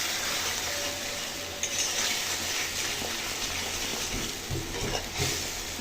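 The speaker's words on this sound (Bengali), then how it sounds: "বেশ নাড়াচাড়া করব।" Pointed gourd frying in a pan with salt and turmeric is stirred, giving a steady sizzle with scraping and clattering touches of the spoon, close and continuous, no talking.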